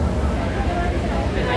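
Broadband engine rumble and water noise aboard a ferry crossing in Hong Kong toward Central, with buffeting wind, steady and close throughout.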